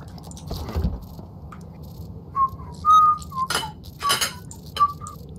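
A person whistles a few short, clear notes in a halting, scattered run, mixed with brief clinking, jangling noises, with no talking.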